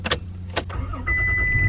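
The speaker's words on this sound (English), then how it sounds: "So let me just turn on the truck now." A Toyota Tacoma pickup truck engine starts with a few rough bursts and then settles into a steady, close idle hum with a thin whine on top.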